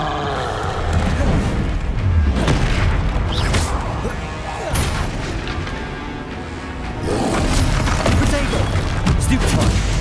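Spell casting in Hogwarts Legacy: repeated magical blasts and booming impacts, near and loud, crash into one another over a dense, continuous layer of battle sound with voices running under it.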